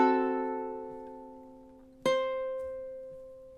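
Ukulele plays measure 16 of a song: a sustained strummed chord rings and fades, then a second strum lands at about two seconds and decays slowly, soft and unaccompanied.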